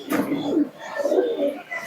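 A pair of Malbai Lalsira pigeons gives close, fairly loud throaty coos in two or three rolling phrases.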